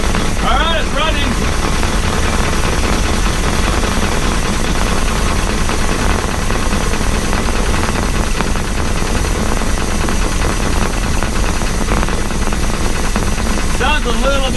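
A long-idle Chris Craft starboard 454 boat engine runs loud and close, a dense rough rumble with a steady churning mechanical clatter and hiss, and voices cutting in briefly over it.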